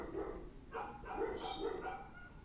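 Dogs bark in the background of a home during a live online music lesson; several short, fairly faint barks and yips come in quick bursts.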